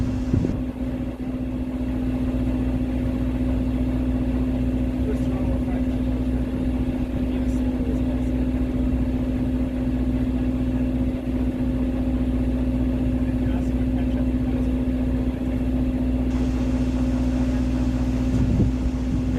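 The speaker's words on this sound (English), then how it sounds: "Just run the motors that guide the boat there, and let the cables do the steering." Steady low drone of cable ferry boat motors runs throughout with a strong constant hum, running at even speed with no change in pitch.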